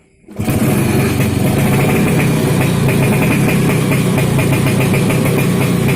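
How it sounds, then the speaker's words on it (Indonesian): A Vespa PX scooter engine fires up abruptly after a moment of quiet and settles into a loud, close, steady idle with a buzzy, slightly knocking beat. "Oke sekarang tak coba dulu nyalain mesinnya."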